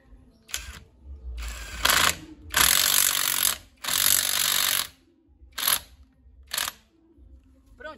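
A power tool drives a screw into a motorhome part in a series of whirring, ratcheting bursts, some long and some short, separated by brief pauses. The sound is close and loud, with no talking.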